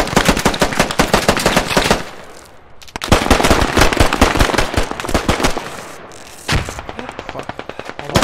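Automatic weapon fire in the video game Squad, loud rapid bursts of shots with brief pauses between strings, close and dominant, with a short gap before firing resumes.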